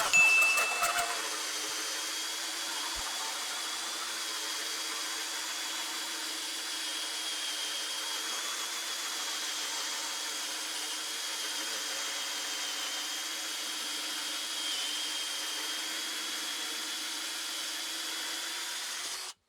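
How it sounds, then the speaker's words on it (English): Ryobi cordless drill with a hole saw cutting down through pine, a steady high whirring grind held for nearly twenty seconds close by, with no talk. "let's try a Ryobi hole saw, see what that does. We'll just go down through some pine."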